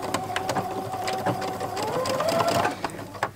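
A sewing machine runs steadily while understitching a seam with a zipper foot, a continuous close motor whir with rapid stitching pulses for the whole stretch and no talking.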